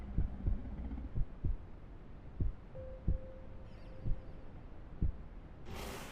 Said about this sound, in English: My Carno's heartbeat became audible.